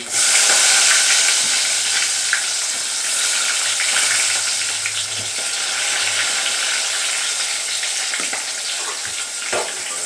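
Onions, green chillies, cinnamon, cloves and cardamom fry in hot oil in a pan, a continuous loud sizzle and hiss with occasional faint stirring clicks.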